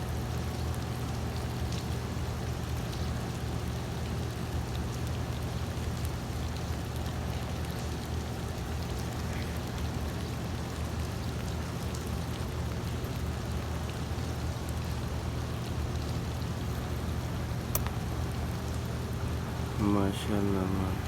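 Heavy rain falls over Makkah amid mountains, a steady, dense hiss of downpour that holds evenly for the whole stretch, close and continuous, with a few faint sharper patters near the end.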